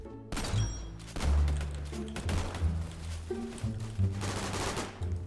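Shotgun blasts from a Remington 870 build in a gun-customizing video game fire in a rapid run of loud, booming shots with ringing tails, close and dominant, with no talking.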